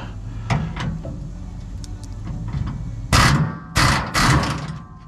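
A power tool buzzes a shock absorber off an F-450 truck during a rear end swap, firing three loud close bursts after a stretch of quieter clanks and shop noise.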